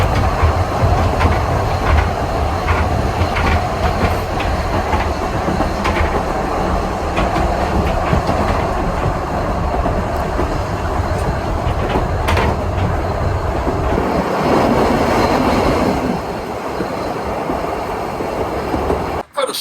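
A narrow-gauge steam train on the Isle of Man rumbles steadily along with rhythmic clattering of wheels on track, loud and close, a continuous roar throughout.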